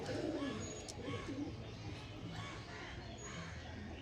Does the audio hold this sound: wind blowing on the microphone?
no